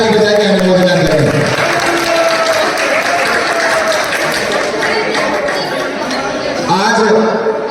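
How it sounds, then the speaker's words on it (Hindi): At a Jain religious ceremony, an audience breaks into loud, dense clapping that swells in the middle, with a voice talking over a public address system before and after. "जोरदार ताली बजा के अनुमोदना करें।"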